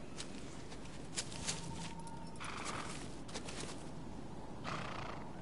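A horse in the video game Shadow of the Colossus whinnies and its hooves clip-clop in a steady run, fairly faint and heard alone without any talking.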